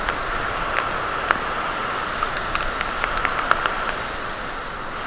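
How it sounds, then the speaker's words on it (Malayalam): Heavy rain in strong wind near the Perumthenaruvi waterfall and dam makes a steady, loud hiss, with scattered sharp drop taps landing close by. "ഈ മഴ ഭയങ്കര ഒരു പ്രശ്നം കേട്ടോ, ഭയങ്കര കാറ്റാണ്"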